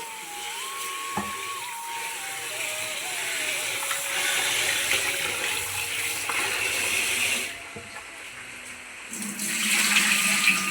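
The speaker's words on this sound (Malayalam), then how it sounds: "അരി നന്നായി കഴുകണം" Rice washed in water gives a close, rushing swirl of water with sloshing and splashing that comes and goes in waves, at moderate loudness, with no one speaking.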